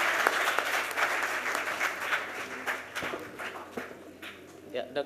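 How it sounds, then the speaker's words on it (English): A conference audience at a textile summit gives speakers a sustained round of applause, dense and even clapping at moderate loudness with a low steady hum beneath. "Please give them a big hand every time."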